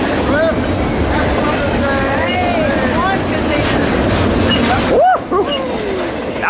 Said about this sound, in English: That's a short train.